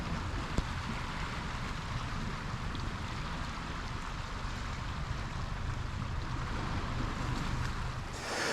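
Waves wash steadily over a rocky, pebbly shoreline at O'Sullivan's Beach, a continuous broad roar with wind buffeting the microphone and no voices.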